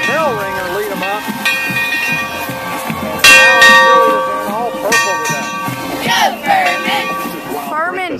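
A bell rings repeatedly as a Furman Paladins football team walks into the stadium on game day, loud bright strikes with long ringing tones mixed with crowd noise and a voice talking over it.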